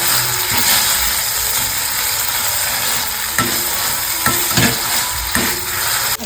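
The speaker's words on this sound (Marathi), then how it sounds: "टमाटर आणि कांदा आपल्याला चांगला परतून घ्यायचा आहे" Tomato and onion sautéing in a pan give a constant loud sizzle, with sharp scrapes and clinks of a spatula against the metal at intervals as the mixture is stirred close by, with no talking.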